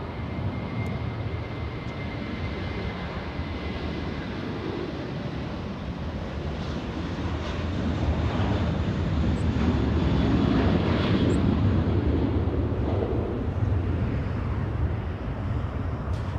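An All Nippon Airways Dreamliner jet taking off at LAX, a broad continuous engine roar that swells louder midway and holds, heard from a distance with wind buffeting the microphone.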